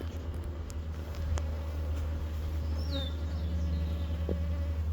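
Forager honeybees fly back to an agitated hive, a steady close buzzing drone with a low hum beneath it and a brief chirp partway through.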